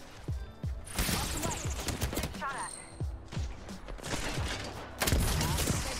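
Sniper and other gunfire in a video game, with sharp repeated shots and bursts over busy game sounds, while players talk excitedly throughout.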